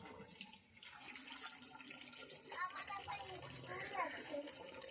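A tap runs as a child washes her face in the morning, the water a soft, continuous splash heard fairly faint beneath an adult's and a voices talking.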